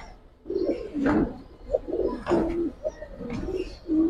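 Close-up pigeons coo in repeated low, throaty phrases, several rounding calls overlapping with faint chirps and rustling in a loft of Giribaz pigeons.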